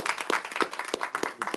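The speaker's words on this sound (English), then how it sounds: "y'all give Justin a round of applause." Modest audience applause at an Ujamaa Night gathering, a small group clapping briefly at close range with some uneven, scattered claps.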